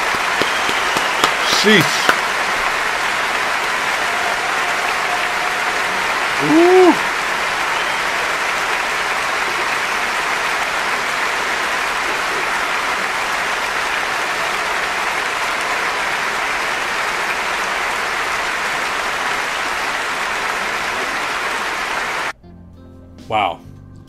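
Sustained audience applause after a singer performs a song, a dense, even roar of clapping from a large crowd lasting about twenty seconds before cutting off abruptly, with a brief spoken exclamation at the start and end.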